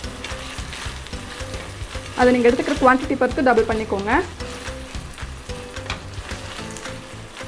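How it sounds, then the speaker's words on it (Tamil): Gobi manchurian, cauliflower pieces with soy sauce, frying in a hot pan: a loud burst of sizzling and stirring for about two seconds, then settling to a low background sizzle while someone talks. "நல்லா ஃப்ரை பண்ணிக்கோங்க."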